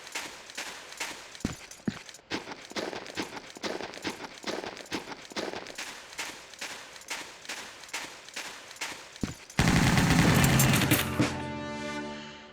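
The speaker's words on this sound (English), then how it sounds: "So then we've got the SIG 551, and there's two attacks here." A SIG 551 rifle from Soldier of Fortune II Unreal Edition fires single shots in a fairly regular rhythm of sharp cracks, followed near the end by a louder sustained burst that rings out and fades.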